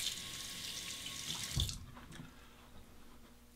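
Tap water running into a sink while a straight razor is rinsed during a shave, a close, steady splashing rush that cuts off partway through, leaving quiet.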